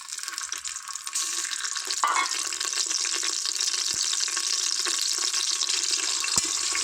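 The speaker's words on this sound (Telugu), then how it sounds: "పసుపుని ఫ్రై చేసుకుందాం" Turmeric and whole spices frying in a pan for mutton biryani give a bright, steady sizzle that swells after the first couple of seconds and stays loud, with a few faint clinks and no voices.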